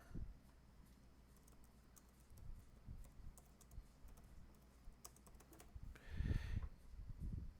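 Soft, quiet keystrokes on a computer keyboard while writing HTML code, with irregular taps and a slightly heavier thump near the end over faint room noise.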